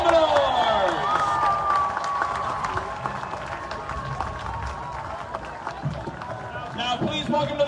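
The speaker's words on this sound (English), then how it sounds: "another round of applause for the Eau Gallie High School Marching Commodores" Crowd applause and cheering at a high school football game's Friday night lights, greeting the Eau Gallie High School Marching Commodores marching band: loud sustained clapping and shouts from a large stadium audience, with a PA-like tone and voices mixed in.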